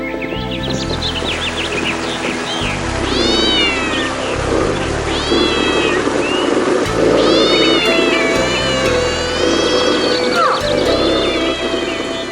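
Animated cats in a fight yowl and meow loudly in long wavering caterwauls, several cries overlapping in quick succession over a steady background bed.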